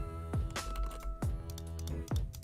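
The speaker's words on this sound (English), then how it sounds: "Clicky click. I got a new mouse." Sharp, loud clicks from a new computer mouse, a few distinct close-up clicks spaced irregularly over a low background hum, with no voices.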